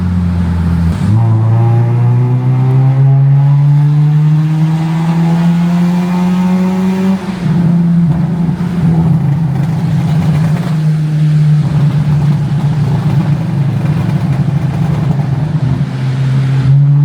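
A Honda Civic FD engine drones from inside the car while driving in traffic, a loud steady hum that climbs in pitch through a gear, drops at a shift, then holds a lower cruising tone with road noise.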